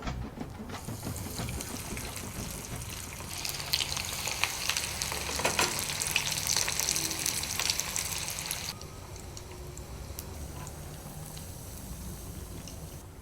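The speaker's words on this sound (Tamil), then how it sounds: "கட்லெட்டை பொரிக்கலாம் சார்." Steady oil sizzle of ragi (finger millet) cutlets frying in a pan, loud and crackling, easing slightly toward the end.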